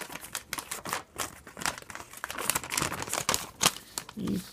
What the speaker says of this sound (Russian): Открываем нашу инструкцию листик.